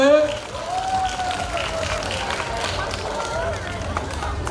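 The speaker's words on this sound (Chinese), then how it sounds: "来宾掌声鼓励" Sustained applause from the audience after a Hakka-language cultural performance by children at a school event, a dense steady wash of clapping with a voice briefly audible at the start.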